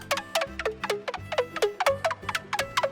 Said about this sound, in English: I'm using this block sound with an arpeggio.